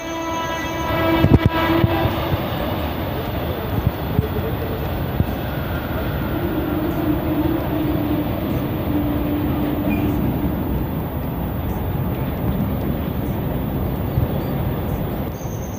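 A train rolls past at Mehmedabad railway station with a steady rumble and clatter of wagons, a horn sounding near the start, continuing loudly without talk.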